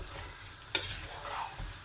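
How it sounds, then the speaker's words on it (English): Potatoes and cauliflower sauté in curry sauce in a single pot for aloo gobi, giving a steady close sizzle with a brief scrape of stirring, and no talk. "you're going to saute your potatoes and cauliflower in the sauce for like 2 or 3 minutes"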